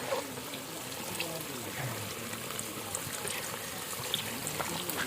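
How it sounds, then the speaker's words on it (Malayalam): Thick first-press coconut milk pours into a cooked Kerala-style potato curry, a soft continuous liquid trickle and gentle bubbling that stays low and even throughout, with no talking. "അപ്പോൾ നമുക്ക് തലപ്പാൽ ഒഴിക്കാം."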